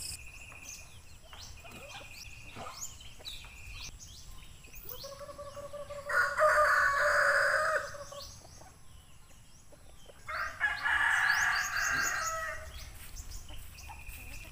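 Pet chickens and a rooster being fed with leftover grated coconut, with nearby clucking and two loud, drawn-out crows from the rooster cutting through the flock's chatter.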